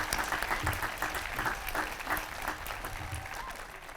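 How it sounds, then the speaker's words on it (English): A graduation audience at a high school ceremony breaks into steady, dense applause that fills the whole stretch at an even level, many hands clapping together with no speech on top. "I ask you all to applaud them for me"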